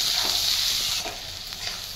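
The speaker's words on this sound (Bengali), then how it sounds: "পেঁয়াজ দিয়ে দিলাম, একটা ফ্রাই করে নেবো এগুলো।" Onions with whole garlic and green chillies frying in a pan, giving a steady close hiss of sizzling oil with faint scrapes as they are stirred, and no voices.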